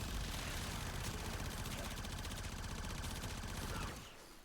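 A weapon in the video game Warframe fires in a rapid, continuous stream of loud shots with a rumbling low end, then the burst cuts off and fades just before the end.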